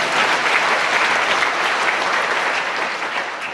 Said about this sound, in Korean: 아멘하고 순종하는 게 진정한 겸손이라고 믿는 사람만 박수 한번 드리겠습니다.